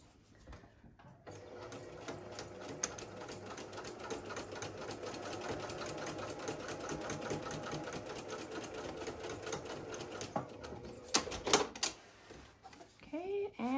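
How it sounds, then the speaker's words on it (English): A sewing machine runs a long continuous straight seam along the sides of an organizer tote, steady and close, then stops with a few short bursts and clicks near the end. "Now we're gonna sew on these straight sides."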